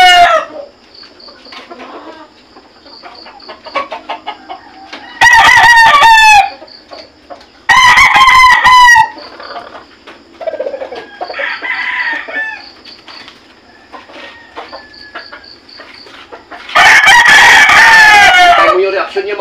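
Gamecock roosters crowing loudly in several long, harsh bursts, close by, with softer clucking and rustling between the crows.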